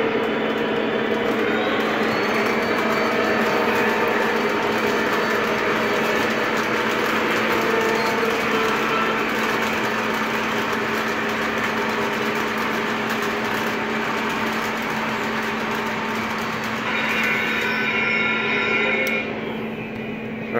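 Model train running on a PRR Keystone layout, a steady, continuous mechanical hum and whir held close and even for about twenty seconds, with a faint voice in the background.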